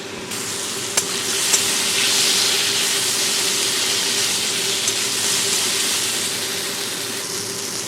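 Onion, tomato and peanut mash being stirred in a hot pan, giving a steady, close sizzling hiss with faint scrapes throughout and no voices.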